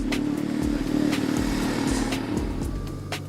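An amphibious motorcycle, a boatorcycle built as a motorbike that can float, pulls away with a steady, loud engine drone and shifting revs, close by and running continuously, with no voices.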